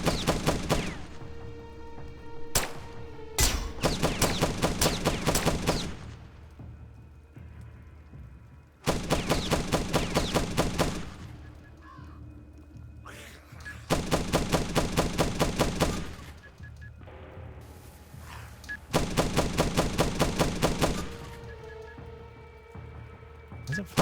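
Turret gunfire in The Last Stand: Aftermath comes in bursts of rapid automatic shots, each lasting a few seconds with short quiet gaps between, loud and steady in a repeating pattern.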